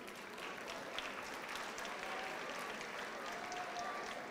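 Steady crowd applause fills a 2019 intermediate school graduation ceremony after graduates' names are read, sustained, even clapping that sounds somewhat distant and continues for several seconds without speech.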